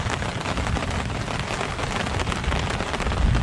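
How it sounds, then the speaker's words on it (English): Rain falls steadily on a camping shelter in the Adirondacks, a dense, loud patter that continues without a break and with no voices. "This rain's not going to last all day"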